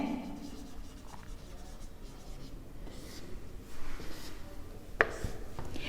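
Marker or chalk writing on a classroom board, a steady soft scratchy rub running through the clip at moderate level, with a sharper tap near the end and no voice over it.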